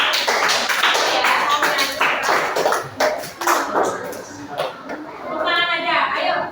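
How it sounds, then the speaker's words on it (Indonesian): A group claps hands during a classroom session. Sharp, rhythmic claps come in bursts mixed with a voice speaking and light chatter. "Coba tepuk tangan yuk."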